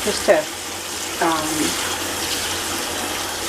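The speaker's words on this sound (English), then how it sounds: "This is just cool water." Cool water runs steadily from a tap while a doll is washed, a constant close rushing that fills the clip, with a voice speaking briefly near the start.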